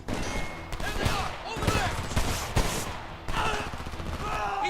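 Rapid automatic gunfire from the shooter game Homefront, loud sustained bursts with sharp individual shot transients, broken by a short pause before firing resumes.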